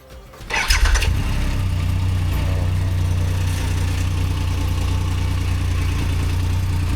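A Triumph Rocket 3 motorcycle engine cranks and fires with a sharp, loud burst, then settles into a deep, steady idle rumble close by.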